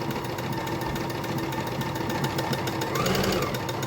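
A sewing machine stitching a paper-like fabric gift bag gives off a steady mechanical whir with a fast rhythmic chatter. It is close and continuous, and it strains a little louder near the end.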